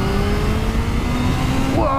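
A Kawasaki ZH2 motorcycle accelerates hard, its engine holding a loud, rising drone with strong wind rush before a quick shift makes the pitch drop and climb again near the end.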